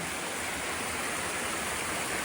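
Waterfall and a mountain brook on the Appalachian Trail, a steady dense broadband rush of flowing water filling the space without a break, close and loud.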